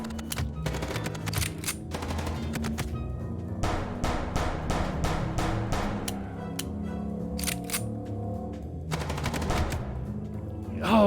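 Rapid, loud bursts of automatic gunfire in the Chicken Police video game on Switch, repeated volleys of sharp cracks over a constant low rumble and background music, with brief pauses between bursts.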